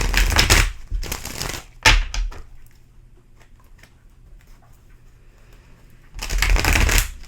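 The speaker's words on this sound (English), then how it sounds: "I'll give a couple more shuffles here" A deck of tarot cards is riffle-shuffled close up in three quick, loud bursts of rapid card flutter. Quiet pauses separate the bursts, and there is no speech.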